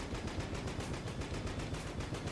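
A grenade launcher and explosions firing nonstop in the video game Enter the Gungeon, a dense, rapid, even stream of loud bursts and crackles filling the whole stretch with no pauses and no talking.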